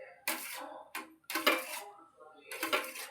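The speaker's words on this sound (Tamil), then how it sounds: "வெல்லம் போட்ட பிறகு இந்த மாதிரி கிளறி விடணும்" Jaggery is stirred into moong dal payasam in a pot with a metal spoon, giving a few close, separate scraping bursts against the metal, with brief pauses between them.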